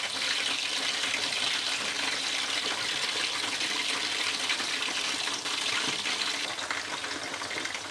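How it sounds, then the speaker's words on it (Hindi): Tap water running steadily over taro root (arbi) in a kitchen sink, a continuous close gushing splash with no pauses and no talk. "तो अब मैंने अरबी धो लिया,"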